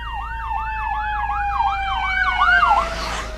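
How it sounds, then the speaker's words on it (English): A wailing siren sweeps up and down in steady cycles as an ambulance passes close by, loud and continuous before fading out at the end. "there's going to be an ambulance passing me right here"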